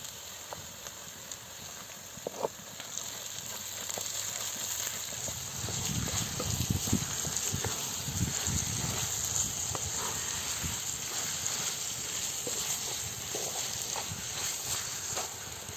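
Minced meat fries with carrots and other vegetables in a pan, giving a steady close sizzling hiss with occasional stirring scrapes and clinks.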